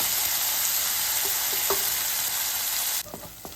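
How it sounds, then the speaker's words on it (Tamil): Tomatoes and onions sautéing in a pan hiss steadily under a few soft stirring scrapes, then the sizzle drops sharply quieter near the end. "தக்காளி நல்லா சாஃப்டாக வதங்கட்டும்"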